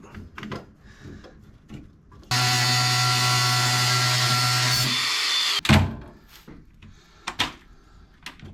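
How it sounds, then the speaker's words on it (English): A power tool whirs loudly at steady speed for about three seconds, unscrewing rusty rivet screws on a vehicle bulkhead, framed by clanks and handling knocks before and after. "I just need to try and start unscrewing and unbolting and see where I get to with it"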